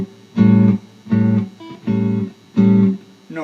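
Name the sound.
jazz guitar chord plucked with a pick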